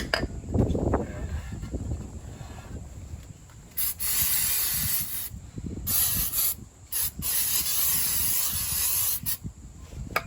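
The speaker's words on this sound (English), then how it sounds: "I've got some brake cleaner to give it a bit of a spray." Brake cleaner sprays onto the front brake pads and discs of a Mk7 VW Golf in a series of sharp hissing bursts of varying length, separated by short pauses.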